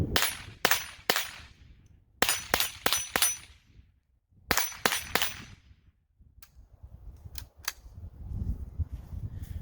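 Suppressed .22LR rifle (Rugged Obsidian 9 suppressor) firing outdoors: a string of about eleven sharp, close cracks in uneven groups of two to four, then a pause and a few fainter distant pops over light ambient noise.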